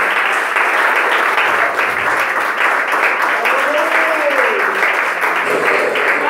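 A church congregation claps steadily in a sustained, dense wash of applause during a prayer service, with a voice briefly rising through it.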